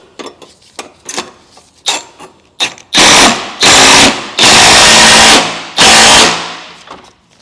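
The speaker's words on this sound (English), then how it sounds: "I'm now going to tighten these 2 up." Bolts on a Ford Fiesta ST intercooler bracket are run up with a power tool: several short ratcheting clicks, then four loud, sustained buzzing bursts close by, no talking.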